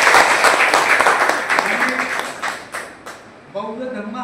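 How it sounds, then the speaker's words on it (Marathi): Audience applause at a Buddhist community gathering marking the end of the Varshavas retreat, a dense patter of many hands, loud at first and then thinning, with a voice speaking over the end. "वाजवा टाळ्या"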